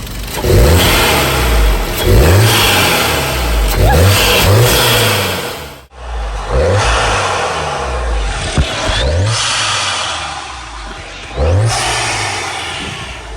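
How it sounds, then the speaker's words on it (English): A Cupra 280 engine with a new induction kit revs hard several times in rising, falling bursts, with a deep throaty intake roar close by and a brief pause midway. "this is the first sound check of the induction kit"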